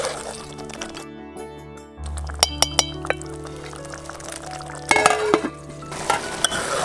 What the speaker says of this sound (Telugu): ఇప్పుడు నీళ్లు పోసుకోవాలి.